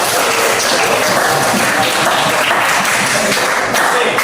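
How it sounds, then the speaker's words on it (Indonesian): Audience applause for a student group finishing a class presentation, a steady dense wash of clapping filling the whole stretch at close range with no pauses. "mari sebelum mereka dulu kita memberikan aplaus kepada"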